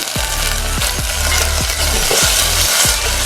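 Ground candlenuts fry in hot palm oil with a loud, dense, continuous sizzle, while a spatula scrapes the pan in regular sweeps about every two-thirds of a second.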